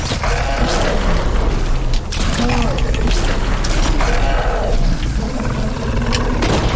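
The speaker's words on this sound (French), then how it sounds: "il a explosé le mur" A wall blowing up in Lego Fortnite, a loud, heavy rumbling blast with crumbling debris that carries on through the clip, mixed with game effects while players talk excitedly over it.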